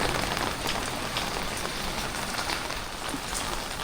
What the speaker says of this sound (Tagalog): may low pressure at ang lakas talaga po ng ulan, pabugso-bugso pa